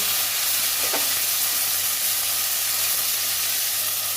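Fish frying in oil in a pan for a mustard and poppy seed dish gives a steady, close, continuous sizzle and hiss throughout, with no talking.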